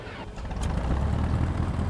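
A Piper Arrow III engine in X-Plane 11 catches and settles into a low, steady rumbling idle, close and continuous after a brief starting whir.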